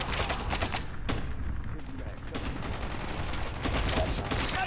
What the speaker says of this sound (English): this gun goes everywhere, so it's usually best to shoot it in burst or in single fire